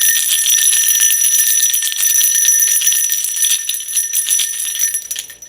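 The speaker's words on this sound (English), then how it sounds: "I'm going to ring them 3 times." Small metal bells ring in a continuous bright, shimmering jingle that stays loud and close throughout and fades slightly at the end, with no voices.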